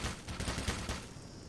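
Military turrets in the video game Black Mesa fire a rapid, steady stream of shots, faint and continuous over a short stretch.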